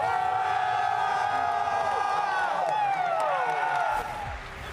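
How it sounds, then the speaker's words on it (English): A loud esports arena crowd at a Counter-Strike grand final in Austin roars and cheers continuously, with whistling tones over the din before it drops off near the end. "There is absolutely no denying who the crowd are rooting for in this one."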